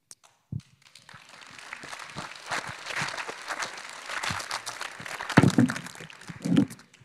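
Audience applause from a hall after a panel talk, rising from scattered claps into a steady round of moderate clapping over several seconds, with a few louder close claps near the end.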